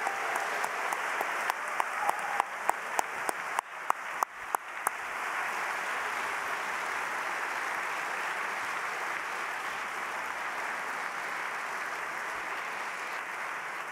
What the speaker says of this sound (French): Je pense qu'on peut tous applaudir les lauréats 2024 de la promotion IUF.